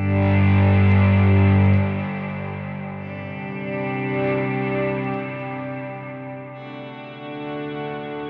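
An electric guitar runs through an ambient reverb patch on a Line 6 HX Stomp, a loud sustained chord that swells and decays into a long shimmering wash of layered harmonics, heard alone.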